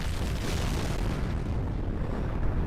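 A castle crumbling under a massive attack in Fate/Grand Order: a dense, continuous roaring rumble of explosions and collapsing debris, loud and steady throughout, with no voices over it.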